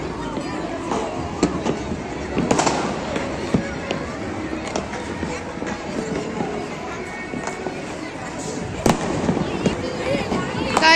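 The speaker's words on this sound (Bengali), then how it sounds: "অনেক বাজি ফোটানো হচ্ছে" New Year fireworks and firecrackers burst as sky lanterns rise, with scattered pops and crackles near and far under steady crowd babble and nearby voices.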